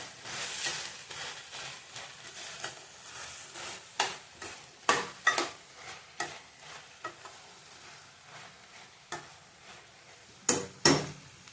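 A spoon mixes roasted sesame seeds and salt into Bhogi mixed vegetable curry in a pan, producing a run of close, quiet scrapes and soft knocks against the pan with faint sizzling and no speech.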